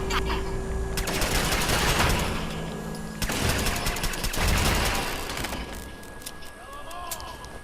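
Machine-gun fire from gunners in the video game Fallout 4, dense rapid bursts of shots mixed with engine-like rumble and electronic game effects, loud throughout.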